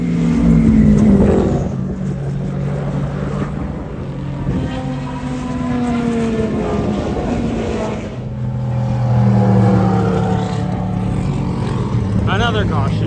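Race cars roaring past at close range during the 6 Hours endurance race at Watkins Glen, engine noise rising and falling in waves beside a downhill curb section, with a person talking over it throughout.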